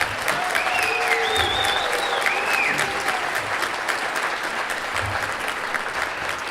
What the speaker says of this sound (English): How about a big round of applause for Joella Marshall?